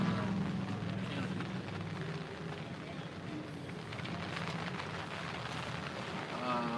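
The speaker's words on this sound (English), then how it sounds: "raining. Yep. You can hear it." Steady rain patters continuously on a surface at a youth baseball game, a dense wash of drops with faint background voices.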